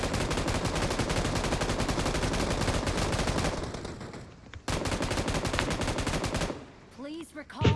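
Rapid automatic gunfire in a shooting video game, dense bursts of overlapping shots running almost without a break, a short gap, then more sustained firing before it trails off near the end, with brief voices.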